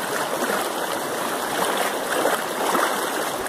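Rushing water of a stream swollen after heavy rain, the Riacho do Tigre in Solonópole, Ceará, Brazil, flows steadily and fairly close, a continuous broadband wash with no voices.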